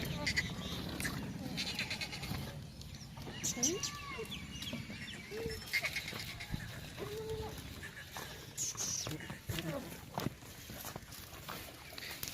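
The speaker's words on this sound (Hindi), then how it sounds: "ये 20 बकरियाँ और एक ब्रीडर है।" A breeding herd of about twenty goats, pure red Nachi Bachay breed, with a breeder buck, bleats in scattered calls alongside clucking chickens, close and mid-distance, under someone talking over a busy farmyard background.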